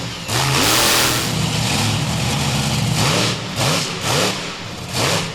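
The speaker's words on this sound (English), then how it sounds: "And Patrick's out tonight, really putting the truck through its test." A race truck engine at KC Raceway in Waverly, Ohio, revs hard and loud, climbing and falling in repeated surges as the truck drives and leaps across the track, with no talking.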